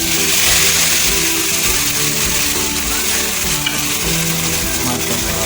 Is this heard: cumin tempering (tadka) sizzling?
yes